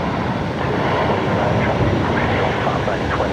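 An Air New Zealand airliner in All Blacks livery at Brisbane Airport at night gives off a loud, steady jet roar with a deep rumble that fills the whole stretch without letting up.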